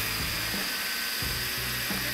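Basic angle grinder without soft start or speed control, mounted on a test rig and cutting with a thin abrasive cut-off disc, giving a steady loud high whine with low pulsing underneath and no talk.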